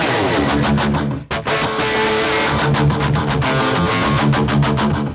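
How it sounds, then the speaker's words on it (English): Electric guitar played through an IK Multimedia TONEX amp capture with no impulse response, loud and harsh with bright fizzy strums, one brief cut-off near the start, then continuing dense and unbroken. "This is the sound of the capture because it's only the amplifier."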